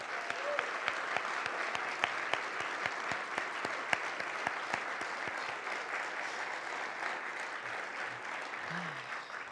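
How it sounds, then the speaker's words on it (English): Steady, dense clapping from an audience honoring school staff at an education awards ceremony, continuous and fairly loud throughout with no break. "A big round of applause to all of you."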